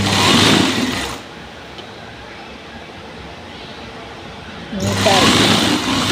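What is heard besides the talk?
sewing machine stitching a blouse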